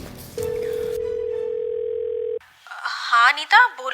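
A steady, unbroken telephone dial tone holds for about two seconds as a call is placed, then cuts off and gives way to brief chirpy, voice-like sounds.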